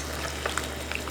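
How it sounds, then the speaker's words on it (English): Thai red curry with basil is stirred in a pot, a bubbling, sizzling simmer with soft scraping and a few light clicks over a short stretch. "Give this a mix."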